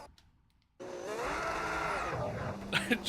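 After a brief quiet moment, a Formula 1 car in an F1 racing video game at Monaco bursts into a loud, whining engine rev on the throttle, holding a sustained high pitch that slides downward before a few rough bursts at the end.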